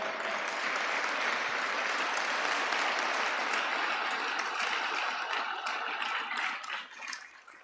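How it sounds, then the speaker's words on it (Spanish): A church congregation breaks into sustained applause, a dense wash of clapping that holds steady for several seconds before tapering off near the end. "Denle un aplauso a Jesús."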